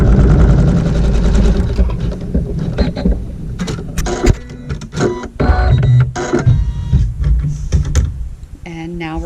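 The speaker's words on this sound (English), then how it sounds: "we're going to sew a tack down stitch" A sewing machine stitches a tack-down seam through quilt-block fabric for a French Braid quilt, its motor whirring in bursts and stops, with a voice talking over parts of it.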